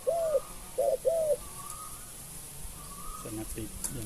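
A small-voiced wild spotted dove coos three times in quick succession, clear and fairly close, followed by quieter background sounds and faint outdoor noise.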